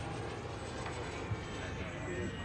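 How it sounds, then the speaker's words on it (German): A jet turbine on a 22% (1:4.5) scale ASW 17 RC glider runs at full throttle as a steady, quiet, even rushing hiss with a faint high whine, unbroken throughout. "es gibt jetzt hier Vollgas mit dem Triebwerk"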